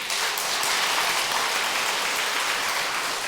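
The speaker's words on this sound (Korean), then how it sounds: "박수 한번 쳐주세요" Applause from a church congregation during a Sunday evening service, a dense, steady wash of clapping with no voices over it.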